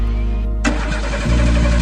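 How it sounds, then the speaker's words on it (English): A car engine cranks over with a steady low whir, then catches with a sharp burst and settles into a loud, rough idle that rises into revving, close and alone with no talk. "The response to that call often sounds like an engine piercing the air."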